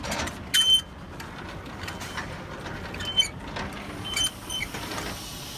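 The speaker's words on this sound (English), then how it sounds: "Hearing the sound, that means you're taking the pressure off the fifth wheel" Landing gear on a trailer hitched to a truck is cranked down, taking pressure off the fifth wheel, giving faint mechanical clanks and creaks spaced a second or so apart over a quiet background, with no talking.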